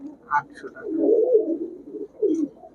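Pigeons in a crowded pigeon house coo in low, repeated rolling calls, fairly close, with a brief higher chirp or two among them and a voice nearby.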